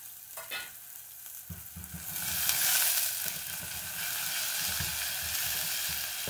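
Onion, then garlic, sizzling and frying in a pan for a homemade stir-fry, a steady crackling hiss that swells louder partway through and keeps going with soft stirring scrapes underneath.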